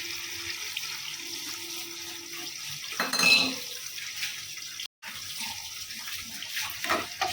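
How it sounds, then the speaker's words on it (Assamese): Water poured into a pan of broken-up potatoes that were frying alongside fish, a brief splashing rush and hiss near the middle amid quieter kitchen clatter, no voices. "এতিয়া অলপ পানী দি দিছোঁ।"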